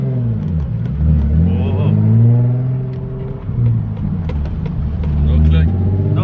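A turbocharged 600 hp Nissan 350Z pulls hard at full throttle, and its engine drone climbs and holds as it accelerates, heard from inside the car with excited voices talking over it.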